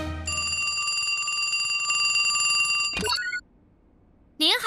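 Telephone bell rings in a continuous bright electronic trill for about three seconds, then cuts off abruptly, followed by a short rising chirp and a brief burst of another sound at the end.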